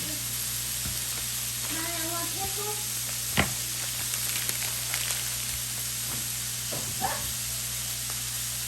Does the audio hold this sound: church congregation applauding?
no